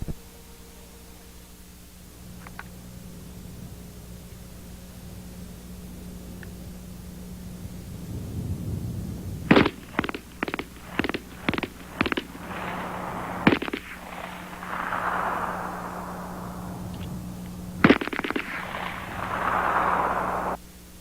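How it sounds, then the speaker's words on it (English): An MP-18 submachine gun fires at targets on a trench assault shooting course: a quick cluster of loud, sharp shots, then a few isolated cracks separated by pauses and a rumbling background. "You can see that the shooter of the submachine gun tackled his targets in only 5 seconds and still had ammunition for an 8th surprise target"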